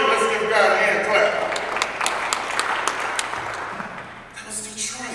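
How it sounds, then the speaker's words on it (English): A crowd claps together during a sermon about Detroit, giving a dense burst of applause that swells early and then gradually thins out, with a few sharper claps standing out before it fades under background murmur. "Let's give God a hand clap."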